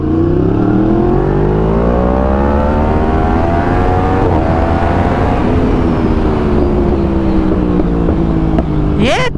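A Yamaha R1 superbike accelerates hard on the road, its loud, close engine note climbing in pitch through the gears with brief dips at each shift, a continuous high-revving roar filling the whole stretch.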